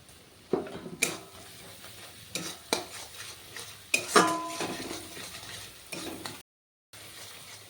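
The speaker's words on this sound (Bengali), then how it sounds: "এখন আমি মশলাটা একটু কষিয়ে নেব।" Masala for Bengali katla kalia stirred and sautéed in a pan, with a soft sizzle under scraping spoon strokes and occasional clinks against the pot, close by with a short silent gap.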